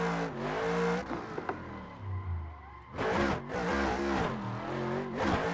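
A Fun Haver RTR Pro Mustang with 1,200 horsepower in a driving video game revs hard in repeated loud surges, engine note climbing and falling with brief drops between bursts, no voices.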